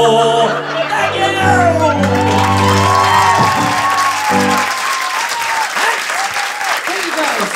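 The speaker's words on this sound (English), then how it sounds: "Nice little, good little smattering of applause there on the Fitbit joke" A comedy club audience at a late-night stand-up show breaks into loud applause with scattered cheers and whoops. Speech and shouted voices run through the first half before steady clapping continues alone.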